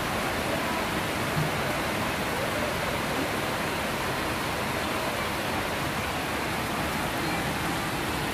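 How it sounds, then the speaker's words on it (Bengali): Heavy rain pours steadily and loudly in Dhaka, a dense unbroken hiss of water with no pauses or voices. "এখন অনেক জোরে বৃষ্টি হচ্ছে"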